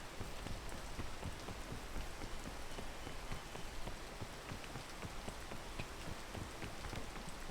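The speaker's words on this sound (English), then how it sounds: "Wait for the rain to die down." Steady rain in the video game PEAK patters densely on surfaces, an even, close hiss of drops with no letup across the whole stretch and no voices.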